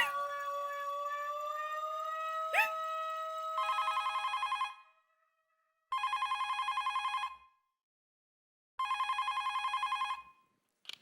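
A telephone rings three times at night while someone calls a doctor: bursts of loud electronic trilling separated by pauses, preceded by a sustained steady tone with a brief click.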